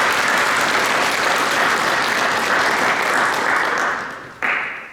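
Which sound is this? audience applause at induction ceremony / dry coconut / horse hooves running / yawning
audience applause at induction ceremony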